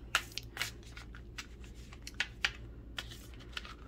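Tarot cards being shuffled by hand, a series of crisp riffling slaps and flicks at an uneven pace, close up over a faint steady background hum.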